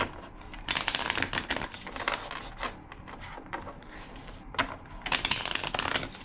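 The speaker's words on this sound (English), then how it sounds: "Two more shuffles." A deck of tarot cards being shuffled up close, bursts of crisp riffling and slapping in irregular clusters with short pauses between, fairly quiet and with no talking.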